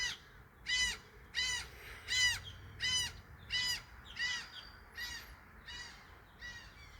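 A seabird calls in a steady series of about ten harsh, raspy cries, evenly spaced and gradually fading, heard alone at a moderate distance with no talk.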